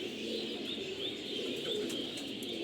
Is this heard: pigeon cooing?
yes